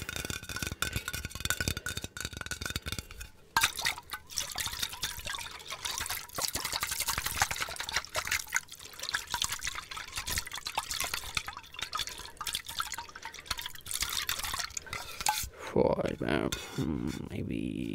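Water pouring and dripping into a cup for a simple midnight snack, a steady liquid trickle with clinking, near and fairly loud, ending in a brief splash, with no talking.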